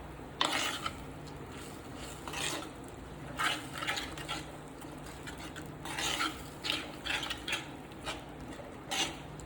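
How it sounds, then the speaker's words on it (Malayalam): A spoon repeatedly scrapes and clinks in a pot of Kerala fish curry with kudampuli water, in irregular close stirring strokes over a low background, with no speech. "ചേർത്ത് നന്നായിട്ടൊന്ന് ഇളക്കി യോജിപ്പിച്ചെടുക്കാം."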